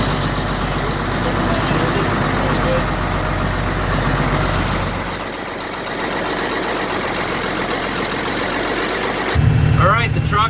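A semi truck's engine idles loudly and steadily just after being pulled out of mud on a farm, a constant close rumble with a short dip near the middle.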